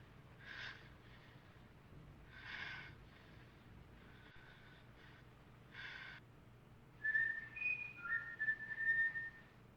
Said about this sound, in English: here we can hear even the labored breathing of the murderer